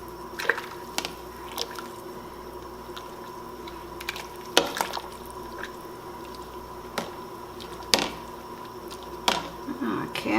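A pot of 16 bean soup stirred with seasoning packets mixed in, a few wet squishing and clinking spoon strokes spaced apart over a quiet background hum.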